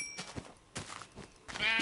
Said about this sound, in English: What's up, sheep? Give me your wool.